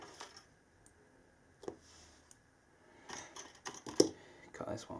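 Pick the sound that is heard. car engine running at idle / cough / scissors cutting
scissors cutting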